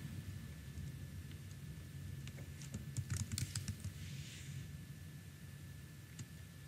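Keyboard typing in a short burst of quick, light clicks over a steady low background hum and a faint constant tone, with no voices.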